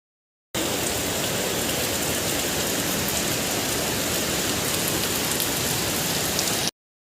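Heavy rain pours down at Putudi waterfall near Phulbani as a loud, dense, unbroken rushing hiss that starts abruptly and cuts off just as suddenly near the end.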